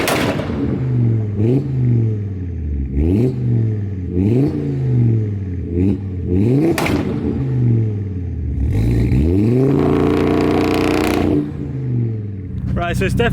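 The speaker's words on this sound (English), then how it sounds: "What we'll do now, we'll get some revs." Volkswagen Mk6 Golf R fitted with a 500 bhp Audi RS3 2.5-litre five-cylinder engine, revved repeatedly in sharp loud blips with rising and falling pitch, then one long high rev near the end, close by.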